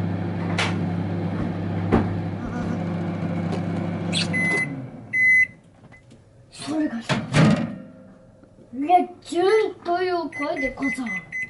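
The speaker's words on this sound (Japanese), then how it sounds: "じゃあ電子レンジしてくるね" A microwave oven hums steadily for several seconds, then stops with a click and a series of beeps, followed by people chatting nearby.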